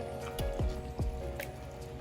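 Water is poured into a sweet and spicy chicken sauce, giving a few close, wet drips and splashes that fall one after another over a quiet kitchen background.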